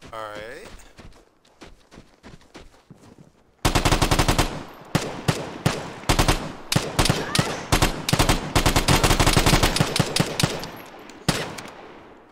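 Gunfire from the online shooter Vigor: a few scattered shots, then a loud, sustained burst of rapid automatic fire with brief gaps, ending in a final volley, with a voice heard at times.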